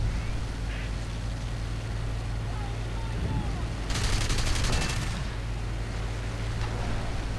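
Aircraft machine guns firing at night in War Thunder, one rapid burst of about a second over steady engine drone, with a faint shorter burst earlier.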